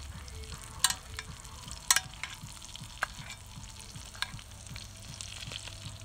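A porterhouse steak fries in butter in a pan, giving a steady close sizzle with scattered pops and crackles and a few sharper spatters, with no talking.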